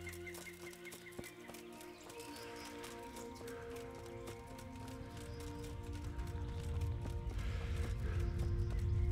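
Horse hooves clip-clop in the medieval role-playing game Kingdom Come: Deliverance, a steady run of soft hoofbeats mixed under constant game music and ambience that grows louder toward the end.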